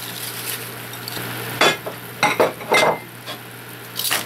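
Spinach being stirred into boiling sauce for Korean japchae sweet potato noodles: a few short scraping, clinking strokes of a utensil against the pot over a steady low simmering hum, with no talking.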